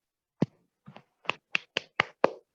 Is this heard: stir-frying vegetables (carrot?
no